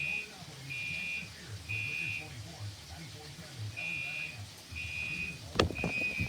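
Smoke alarms set off by smoke from cooking bacon, repeated high-pitched beeping bursts in a regular pattern indoors, with a person talking over it and some clattering near the end.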